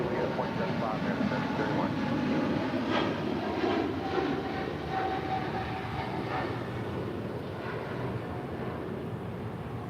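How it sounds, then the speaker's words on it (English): An Eva Air Boeing 777-300ER jet departs LAX, its engines a broad, steady roar heard at a distance that slowly fades, with voices faintly audible underneath. "Now headed to Taipei on this 777-300ER"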